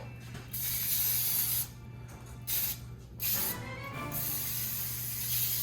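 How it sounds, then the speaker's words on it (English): Several hissing bursts from an aerosol butter cooking spray, close and loud, with short gaps between them over a low background hum. "Get your butter spray. Spray it."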